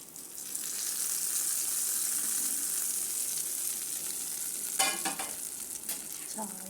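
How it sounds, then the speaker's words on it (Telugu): Tempering for peanut chutney crackles and sizzles in hot oil, with turmeric, curry leaves and chillies, a steady close frying hiss with sharper spitting pops in the last couple of seconds. "తాలింపు వేసుకుందాము."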